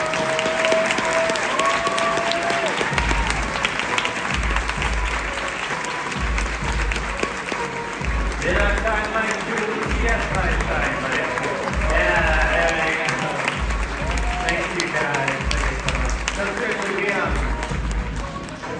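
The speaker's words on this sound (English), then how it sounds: "Please give everybody a big round of applause" A theater audience gives a long ovation for the cast and crew of the 2023 stage show Do Spirits Return?, a thick, sustained round of clapping with low rhythmic thumps underneath and a voice speaking over it.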